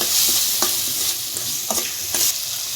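A spoon stirring a homemade spice masala in hot oil in a pan for an aloo sandwich filling, with continuous sizzling and several distinct scraping strokes at an irregular rhythm, close and fairly loud, no talking.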